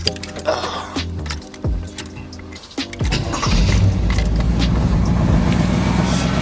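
A 1980 Camaro engine cranks over with a few starter bursts, then catches and settles into a loud, steady idle rumble close by.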